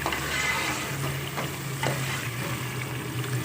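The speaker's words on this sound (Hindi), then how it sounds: "10 मिनट में ये भून जाएगा मसाला फुल आँच पे" Masala for a prawn and potato gravy fries on full flame: a continuous, close hiss and crackle of sizzling oil with light scraping, steady for the whole stretch.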